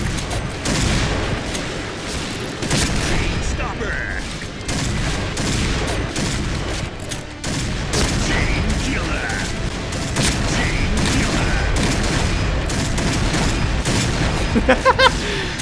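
Gunfire in the Point Blank shooter game, with a Barrett sniper rifle among the weapons: dense, continuous shooting and explosive bursts fill the whole stretch, with players talking excitedly over it and a quick cluster of sharp shots near the end.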